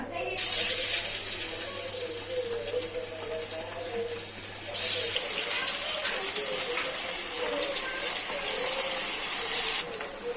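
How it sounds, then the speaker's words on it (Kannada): Chicken kebabs deep-fry in hot oil, dropped in one at a time, raising a loud, continuous bubbling hiss that surges midway and holds steady up close. "ಇದನ್ನ ಎಣ್ಣೆ ಫ್ರೈ ಮಾಡ್ಕೊಳ್ಳೋಣ ಇವಾಗ ಒಂದೊಂದೇ ಹಾಕಿ ಎಣ್ಣೆನೂ ಕೂಡ ಬಿಸಿ ಆಗಿದೆ"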